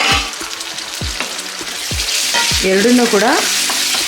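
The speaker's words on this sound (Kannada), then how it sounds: "ಇದಕ್ಕೆ ಒಂದು ಮೀಡಿಯಮ್ ಸೈಜ್ ಟೊಮೆಟೊ ಸಣ್ಣದಾಗಿ ಕಟ್ ಮಾಡ್ಕೊಂಡಿರೋದು ಹಾಕೋತಾ ಇದ್ದೀನಿ" Finely chopped medium tomato goes into hot oil with browned onion in a pan for aloo gobi, sizzling and frying loudly as a spoon knocks and stirs in several distinct strikes; a voice speaks briefly over the cooking.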